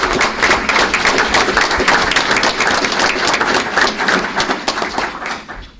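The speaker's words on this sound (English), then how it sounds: "So if you'd help me give them a round of applause, please." A room full of people at a school board meeting gives a sustained round of dense, loud clapping that carries steadily, then thins slightly toward the end.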